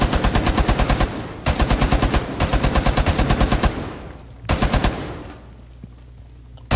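Rapid automatic gunfire in Rainbow Six Siege crackles in several long bursts separated by short pauses, loud and close, with a final burst trailing off into quieter room noise.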